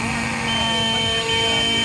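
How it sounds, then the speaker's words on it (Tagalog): Alarm beeper on a lost RC helicopter sounding in an open field, steady sustained electronic tones held nearby over a continuous background hum. "Meron siyang alarm."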